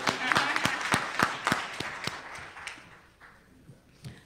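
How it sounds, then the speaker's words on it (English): A church congregation claps hands in a steady rhythmic beat, about three claps per second, loud at first and then fading to a few scattered claps near the end. "let's give God a hand clap."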